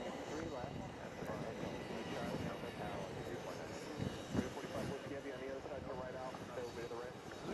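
A fixed-wing airplane at JFK airport produces a steady, distant engine roar, faint overall, with people talking underneath.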